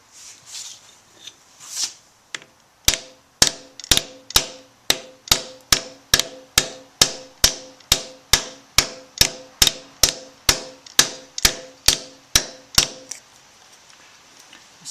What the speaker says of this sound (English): I'll tap it in with a hammer